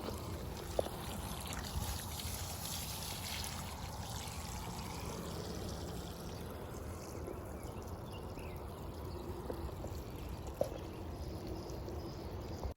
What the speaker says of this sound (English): I'm gonna go water the garden